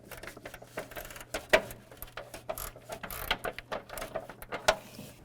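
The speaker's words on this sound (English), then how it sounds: "Now we can go ahead and tighten up this nut that's on the inboard side of this bolt." A wrench tightens the nut on the inboard side of a bolt on the center transmission mount of a 2000-2005 Buick LeSabre, making quiet, irregular mechanical clicks and ratcheting ticks in short bursts, close by.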